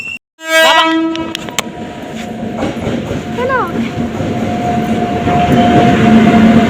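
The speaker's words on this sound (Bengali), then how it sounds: "আমাদের ট্রেন ঢুকে গেল।" A train pulls into a station platform on a journey from Jalpaiguri to Nabadwip. A loud horn blast opens, then the rolling rumble and squeal of the cars grows steadily as it arrives, with crowd noise around it.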